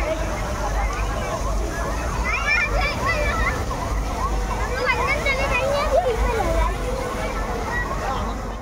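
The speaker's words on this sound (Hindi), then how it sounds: "पे है एक झरना, देख सकते हो आप लोग कैसा है" A small waterfall at Science City Kolkata pours in a continuous rushing splash, steady and fairly close, while someone talks over it and a crowd murmurs in the background.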